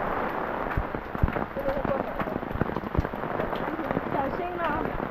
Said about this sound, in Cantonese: 突然間落大雨。